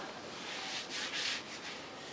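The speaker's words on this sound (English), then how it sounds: "I might try and just sand all that out." Wood being sanded by hand while working a post, a steady close scratchy rubbing with a few stronger strokes, no talking.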